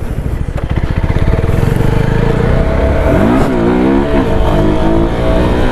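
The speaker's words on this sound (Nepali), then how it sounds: "when you just shift the gear त्यो कुरा चाहिँ एकदम धेरै ध्यान दिनुपर्छ" A motorcycle engine drones loud and close, revving steadily with a rising and falling pitch as it shifts gear during a wheelie, a continuous mechanical roar with no pauses.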